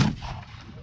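A musket volley fired by a line of soldiers during a historic firing demonstration at Fort McHenry in Baltimore: one loud, sharp boom at the start that rolls off into a fading echo, with no voices.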